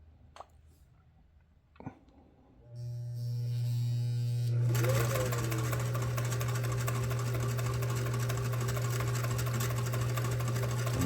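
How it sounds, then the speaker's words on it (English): A Singer 328k sewing machine runs steadily through a straight line of stitching, its motor hum loud and continuous after a brief start-up, close by with no talk. "let's just give it a straight line sew and we'll go from there"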